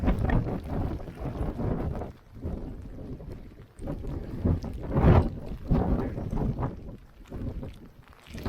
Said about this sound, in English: Bloody windy, it's almost just blown me over.